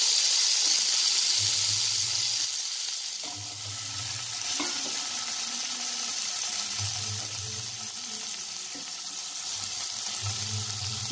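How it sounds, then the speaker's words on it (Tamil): Paneer pieces coated in turmeric and chilli powder shallow frying in a pan, a steady hissing sizzle throughout with a few faint clicks and low thumps nearby. "இதை வந்து அப்படியே ஷாலோவாக ஃப்ரை பண்ணி எடுத்துடலாம்"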